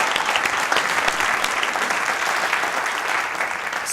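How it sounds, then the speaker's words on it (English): Steady, dense applause from a church congregation, continuous and fairly loud for a few seconds with no voices over it. "Can we give another round of applause for her?"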